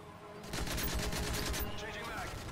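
Rapid automatic gunfire in the video game Call of Duty Modern Warfare 3, a dense burst of shots rattling for about a second amid steady game background noise.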